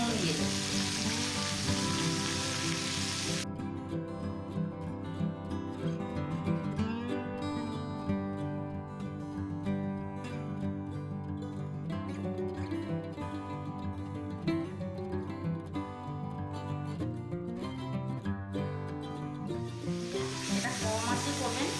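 Tomato chilli sauce sizzles and bubbles in a pan, a loud continuous frying hiss under dense rhythmic scraping and stirring that runs for most of the time.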